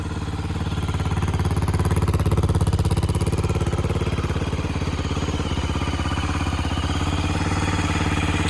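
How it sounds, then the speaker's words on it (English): A Honda XR400 motorcycle engine idles close by, a loud, steady, rumbling throb that holds an even rhythm throughout with no voices. "The idle will come down on its own. The magic of the xr400 does its thing and the bike runs great."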